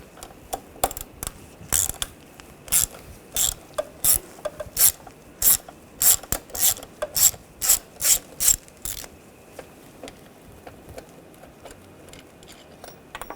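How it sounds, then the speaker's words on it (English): A hand ratchet with a long extension and T30 socket backs out screws on a 2.0L Volkswagen Tiguan throttle body, giving a series of sharp, close clicking bursts in an uneven rhythm that stops partway, then quiet. "I'm just going to use a long extension and a T30 socket. Take these 2 screws out."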